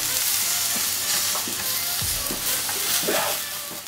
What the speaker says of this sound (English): I'm just gonna flip these over now and cook the rest of the sides of the prawns.